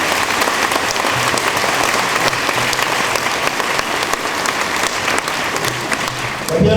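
A church congregation claps through a Sunday homily in Advent, steady sustained applause filling the space for several seconds with a faint murmur of voices underneath.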